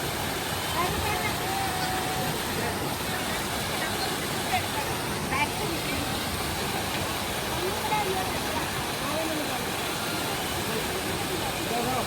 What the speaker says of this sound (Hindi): ये है प्यारा सा एक वाटरफॉल